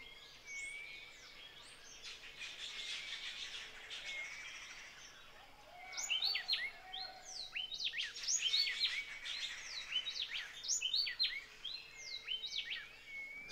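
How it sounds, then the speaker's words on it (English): Many birds chirp and sing in overlapping calls beside the Huatulco River, with a soft steady background wash; the chorus swells denser and louder midway. "The river, the birds, the insects."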